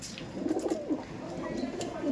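Giribaj high-flying pigeons cooing nearby, a few soft throaty coos repeating in quick succession with faint background noise.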